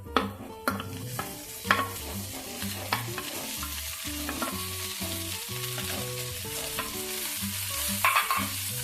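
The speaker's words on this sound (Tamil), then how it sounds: "ஆட் பண்ணிட்டு நல்லா ஃப்ரை பண்ணிக்கலாம்." Boiled rice balls with turmeric frying and being stirred in a pan over medium flame, a steady close sizzle with repeated scraping stirs and occasional utensil knocks against the pan, no talking.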